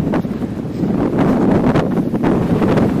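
A strong, cold north wind buffets the microphone on a mountain hiking trail in the Southern Urals, a loud, steady rumbling roar with gusting surges and no talking.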